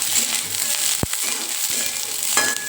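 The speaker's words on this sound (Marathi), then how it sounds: "याच्यात टाकूया लसूण, आलं. हे पण छान असं मिक्स करून घेऊया." Onion fried until pinkish, with garlic and ginger just added for Kolhapuri misal, hisses steadily in a pan up close, broken by a sharp utensil knock and a few lighter clinks.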